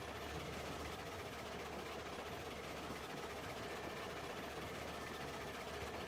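A steam locomotive in the train game Railroads Online runs at full speed downhill, giving a steady, dense rumble and hiss with a constant low mechanical drone throughout, with no talking.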